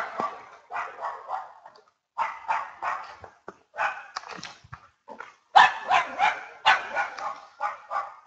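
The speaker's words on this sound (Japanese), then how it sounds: "犬が鳴いています。" A dog barks outdoors near an open field, giving repeated sharp yaps in quick uneven bursts with short gaps between them, moderately near and with no one talking.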